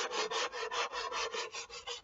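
A foam model wing is sanded by hand with sandpaper wrapped around a flat piece of wood, making close, rhythmic back-and-forth rasping strokes, about four or five per second, with nothing else heard.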